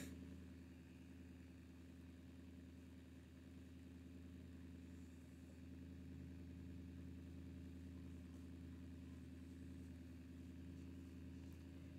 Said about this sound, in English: That is a very loud car outside my window.